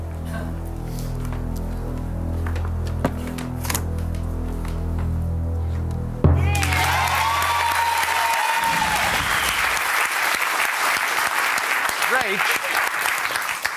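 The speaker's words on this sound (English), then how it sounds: "Reg, you're clapping." Studio audience applause on a UK game show, Deal or No Deal, in a hall-of-fame episode: a steady, dense roar of clapping that swells abruptly halfway through and continues loud over music at first, then alone.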